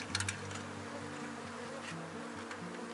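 A honeybee colony buzzes steadily at close range as the beekeeper closes up the hive after an inspection, the dense drone continuous throughout with a few louder passes of bees near the start.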